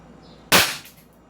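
A single sharp shot from a non-lethal Beretta gun cracks out loud and close, a sudden burst that decays quickly into a short echoing tail.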